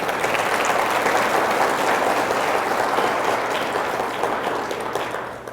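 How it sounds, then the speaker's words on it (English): Audience applause at a city State of the City address, a steady dense wash of many hands clapping that holds loud for several seconds and then tapers off toward the end. "I got to give her an applause for all that she does"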